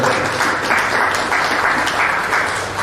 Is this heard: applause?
yes